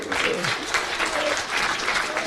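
Sustained audience applause at a men's rights movement panel discussion in Chicago, a dense steady wash of clapping from a crowd that carries evenly from start to finish, with a few voices faintly mixed in.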